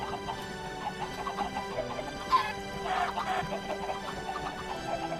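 Chickens cluck in Minecraft, likely penned in an automatic chicken-killing machine built with pistons, with soft repeated clucks and a brief sharp knock midway over steady game ambience.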